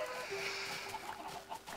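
Several chickens in a video game cluck and squawk in short, overlapping calls over a steady background hum, moderately loud and close.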